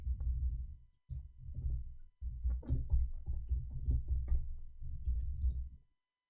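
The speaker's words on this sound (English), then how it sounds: "I'm typing in English." Fast, close typing on a computer keyboard comes in dense bursts of clicks, broken by two brief pauses, with no talk.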